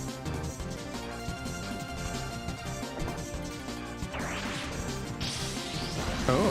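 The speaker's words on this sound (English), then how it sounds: "Oh, you break the glass and it makes power-ups for me." Glass shattering in the Bomberman video game, a bright crash bursting out near the end over busy, continuous game music and effects.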